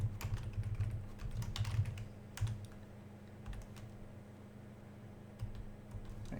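Typing code on a computer keyboard while working through a beginner Java tutorial, a soft run of quiet key taps in irregular bursts over a steady low background hum, with no voices.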